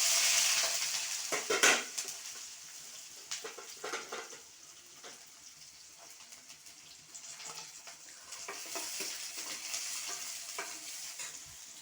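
Onion, garlic and dried red chillies frying in tempering oil with mustard seeds, a continuous sizzle with scraping stirs and clinks of a spatula against the pan.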